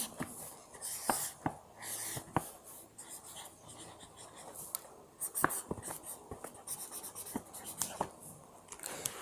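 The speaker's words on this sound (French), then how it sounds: "Attendez, je suis en train d'écrire." A pen writes a word across a notebook page, giving soft scratchy strokes with small taps between them, faint and close.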